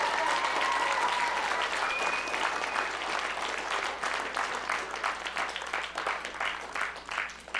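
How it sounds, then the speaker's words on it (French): A crowd applauds three finalists at a French-language event, a thick, sustained roar of clapping that thins into more distinct, individual claps toward the end, with a faint tone briefly sounding early on. "je voudrais que vous les applaudissiez très,"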